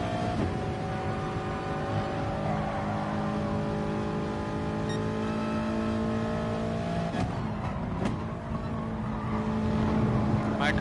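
Race car lapping Autodrome Lago Maggiore in the FIA Manufacturer's Cup within a racing video game, a continuous loud engine whine with shifting pitch through the lap, with a brief gearshift-like break and someone talking over it.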